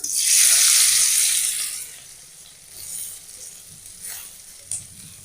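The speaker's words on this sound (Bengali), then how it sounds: "তেল গরম হয়ে গেছে তেলের ভিতর দেবো পেঁয়াজ" Chopped onion drops into hot oil with a loud, bright burst of sizzling that fades over a couple of seconds into quieter crackling, with a few soft stirring sounds afterward.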